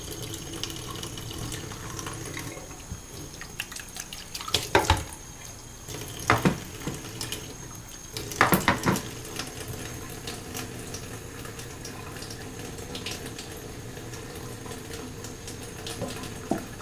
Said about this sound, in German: Wir tun ein bisschen Wasser rein.